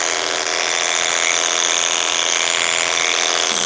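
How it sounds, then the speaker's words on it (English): Electric horse clippers buzz at a steady, loud, continuous pitch close by, running alone throughout without any voices. "So these are the clippers. I'm just tightening the tension so that way we can get in there and clip."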